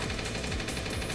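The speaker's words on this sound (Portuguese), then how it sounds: "Ah, é um tiro em área." Rapid burst of gunfire from an area-of-effect attack in the sci-fi strategy video game Lost Dimension, a dense, loud, continuous rattle of shots lasting about a second with no talk.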